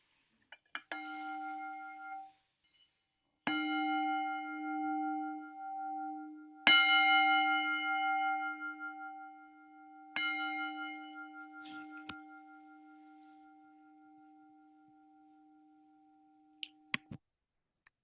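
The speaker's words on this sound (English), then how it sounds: "So I'm going to invite the bell." A meditation bell is struck four times to open a guided meditation, each strike a clear ringing tone that hangs and fades slowly, the last one sustaining long before a few faint taps at the end.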